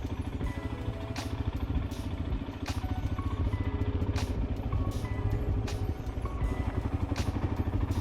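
A motorcycle rides uphill with cruise control engaged, its engine giving a steady, even drone at constant revs, close and continuous, with occasional brief clicks and rattles over it.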